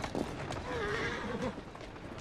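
A horse whinnies in the video game Assassin's Creed Syndicate, a clear rising and falling neigh at mid volume over a busy background with hoof clatter.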